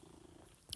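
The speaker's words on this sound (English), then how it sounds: "I'm gonna try and record this despite my cat purring" A pet cat purrs close by indoors, a faint low rumble that runs steadily through the moment, with a small brighter click near the end.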